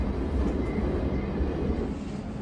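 A Great Northern train arrives at Old Street station, giving a steady low rumble and roar heard from inside the carriage with continuous loud rail noise and no talk.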